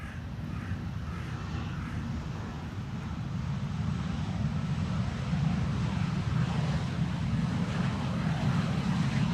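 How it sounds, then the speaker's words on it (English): SAS CRJ regional airliner arriving at Amsterdam Schiphol from Stockholm, a low engine rumble growing steadily louder as it approaches, mixed with wind noise and no talking. "SAS flight 1553 arriving from Stockholm, and this is a CRJ, the first CRJ of the show"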